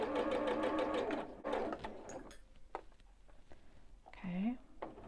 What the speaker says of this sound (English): Okay, get that seam sewn in.